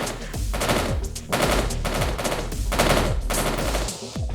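Rapid automatic gunfire from the video game s&box Speed-Dial rattles in loud, dense bursts separated by short gaps, close and continuous over several seconds with no talk.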